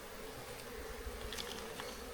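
Honey bees swarm around a hive box in a steady, low, continuous buzz, with no voices.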